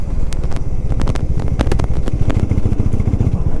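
A 400cc motorcycle pulls hard in second gear, its engine a loud, steady low drone with wind rushing past the microphone throughout, no talking.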